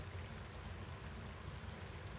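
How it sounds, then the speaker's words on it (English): A glacial creek running down a mountain valley near wooded areas, with steady close rushing and bubbling water forming a dense, continuous wash and no voices over it. "You can hear its bubbling and swooshing of the running water as you walk towards it."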